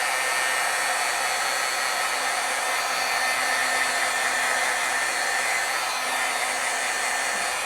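A heat tool blows a steady, loud, even hiss of hot air over freshly stamped ink from a juicy re-inked black pad, running unbroken throughout.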